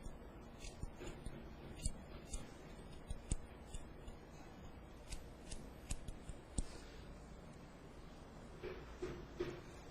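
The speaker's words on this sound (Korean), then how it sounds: "가위가 한 번 지나갈 때마다" Hair-cutting scissors snip through hair during a long Isadora haircut, a steady run of quiet, crisp close-up snips repeating every half second or so.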